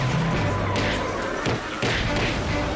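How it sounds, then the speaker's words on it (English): Cartoon cars crashing into each other in a roadway pileup, giving loud overlapping thuds and slams within a dense, continuous mix of noise and music. "Peter and Ernie's fight on the roadway causes cars to crash into each other."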